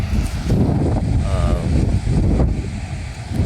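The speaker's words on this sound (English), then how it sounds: "So heavy wind nearby the beach," Strong cyclone wind gusting along a beach at Mypadu near Nellore, a steady loud broadband roar with heavy buffeting on the microphone and no break through the whole stretch.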